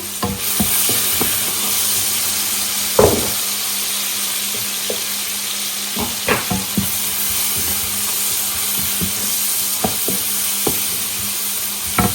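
Cauliflower and beans fry in a pan with a loud, steady sizzle. A spatula stirs through the food every so often with scraping knocks against the pan.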